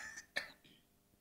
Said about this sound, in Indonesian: maaf saudara, saya lagi sedikit batuk.